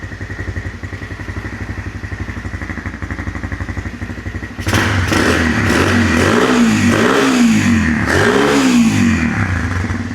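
A Yamaha TTR 125 dirt bike fitted with a big bore kit idles with a steady putter, then roars up into loud, close revving. Several rising and falling throttle blips follow.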